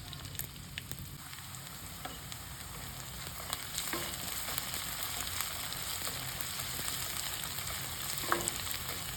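Onions frying in oil in a pan for a butter bean dish, a continuous close sizzle with occasional faint stirring scrapes and ticks, steady throughout and without speech.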